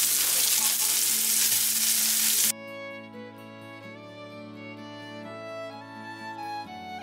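Sweet potato cakes frying in a pan give a loud, dense close sizzle that cuts off abruptly partway through and gives way to sustained tonal music.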